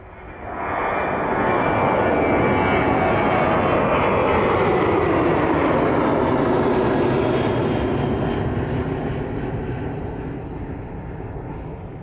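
A Ryanair jet bound for Palma takes off in the evening at East Midlands Airport, its engine roar swelling quickly from a distant rumble to a loud sustained blast, then slowly fading as it climbs away.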